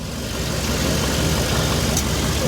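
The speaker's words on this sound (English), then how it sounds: "The engine's running, it's in park, and the transmission's warm." Chevrolet car engine idling in park with a warm transmission, a steady close mechanical hum with a faint rhythmic ticking throughout, no talking.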